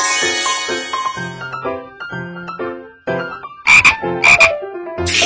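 A cartoon frog croaks in a loud, repeated, rhythmic pattern of deep, throaty notes. It ends with a few bright, raspy bursts and is heard alone, without any speech.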